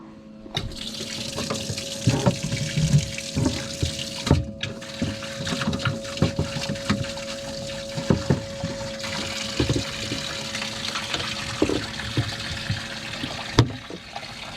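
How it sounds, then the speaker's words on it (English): Water splashes and trickles while a boat's dirty live well is rinsed out, a continuous close running stream with scattered clunks and knocks throughout. "I had to rinse out this live well anyways"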